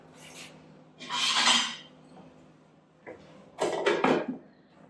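A lid being set onto a pot of kasha varnishkes on the stove, heard as clattering metal bursts, a short rattle then a second series of knocks and scrapes, close by with quiet gaps between.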